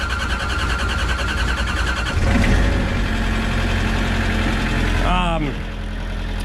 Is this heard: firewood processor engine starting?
yes